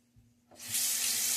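A tap opens after a brief quiet moment, and water gushes steadily into a sink as a Timeless 68 safety razor fitted with a Gillette Nacet blade is rinsed close by.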